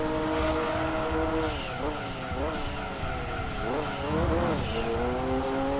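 Race car tyres squeal repeatedly through corners in Gran Turismo 2, rising and falling pitched screeches over a steady engine drone, loud and continuous throughout.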